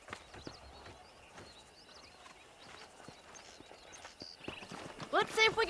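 Horse hooves clip-clopping in the Red Dead Redemption video game, a steady trotting rhythm at moderate distance, with a whinny and rising commotion near the end.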